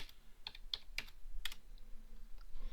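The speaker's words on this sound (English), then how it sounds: "which I'm just going to type in now and then explain how I got it." Keys clatter on a computer keyboard while cost figures are entered, a few sharp clicks in uneven bursts up close, fairly quiet and with no talking.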